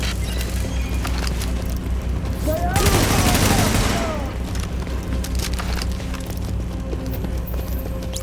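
Gunfire in The Division video game: a dense burst of shots around the middle of the clip over a steady game ambience and low hum, with a voice briefly audible.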